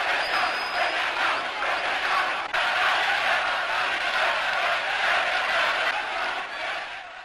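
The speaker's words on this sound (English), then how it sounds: "They are cheering this man." A massive crowd cheers in the streets of the Egyptian capital in an early-1970s news recording, a loud continuous roar of many voices with no pauses.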